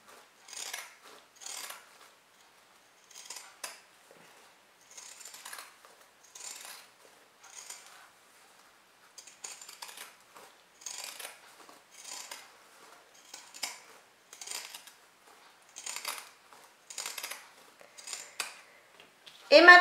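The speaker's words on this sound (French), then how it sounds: "je prends mes ciseaux cranteurs et je vais découper tout l'excédent de tissu" Pinking shears snip away excess fabric from a sewn Christmas candy-box project in a steady series of crisp, close cuts spaced about a second apart, with no one speaking.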